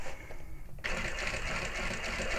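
After a brief quiet moment a sewing machine whirs into steady, close stitching along a handbag seam with a 3/8-inch seam allowance, running evenly to the end.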